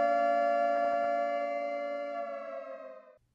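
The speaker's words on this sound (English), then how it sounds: "Sirens blare." A steady, loud siren tone holds for about three seconds and then cuts off abruptly, leaving near silence.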